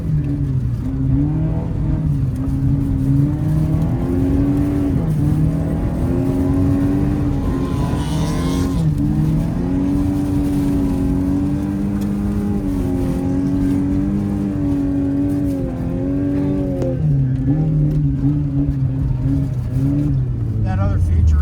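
A $450 barn find car races on a snowy track, its engine roaring loud and close throughout, rising and falling in pitch with throttle. A voice talks over the engine at times.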